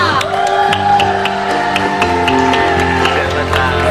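A TV talk-show studio audience on Trans TV's Basa Basi applauds and cheers for Om Ivan Fadila, with dense clapping, whoops and shouts over background music and a voice heard throughout.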